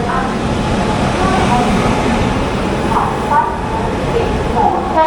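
The Maithili Express rolling into a quiet station at about 4 a.m., a steady rumble of rail cars with faint squeals and clanks, while a station announcement and voices sound over it.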